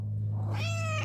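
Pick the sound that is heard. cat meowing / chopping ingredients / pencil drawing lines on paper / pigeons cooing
cat meowing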